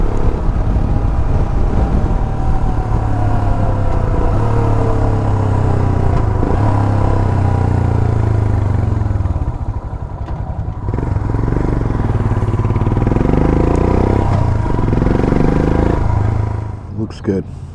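A 2023 Royal Enfield Himalayan motorcycle cruises at a steady 55 mph, its engine a continuous loud drone with rushing wind and road noise heard close from the rider's seat, the engine note dipping briefly midway before steadying again.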